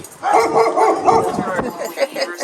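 Several dogs bark and yip in a busy cluster, fairly close, with a voice mixed in among the barking.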